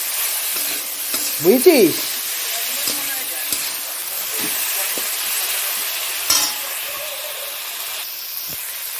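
Cauliflower frying in a pan with salt, turmeric and chili powder, a continuous hissing sizzle with stirring scrapes, while a voice speaks briefly over it.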